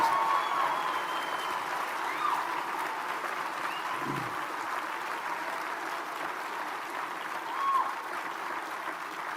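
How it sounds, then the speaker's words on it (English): Sustained round of applause from an audience at a motivational speech, a steady wash of many hands clapping at a moderate distance, even in level with no pauses. "Give yourselves a round of applause."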